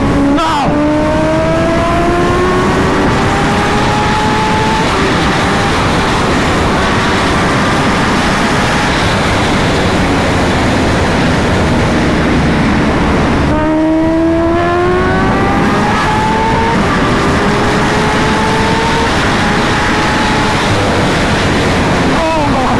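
Kawasaki Ninja H2R motorcycle engine at speed while riding, loud and close with heavy wind rush, rising whine sweeping upward through the gears, a brief break, then climbing again.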